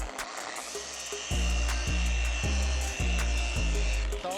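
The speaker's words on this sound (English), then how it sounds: "So let's go run the polisher real quick." A handheld car polisher running on automotive paint during detailing, a loud steady motor whine near the microphone that rises and pulses in repeated surges as it is worked over the panel.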